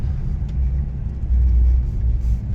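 A Renault Fluence car drives along a snowy mountain road, its engine giving a steady low rumble with road noise close by, swelling slightly midway; no talking.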